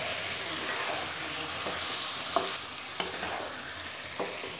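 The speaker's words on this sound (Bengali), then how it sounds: "এবার আমি এর মধ্যে ভেজে রাখা কুমড়ো আর আলুটা দিয়ে দিলাম" Pre-fried pumpkin and potato pieces stir-fried with spices in a pan, giving a steady close sizzle broken by a few sharp spatula scrapes and clacks, with no talking.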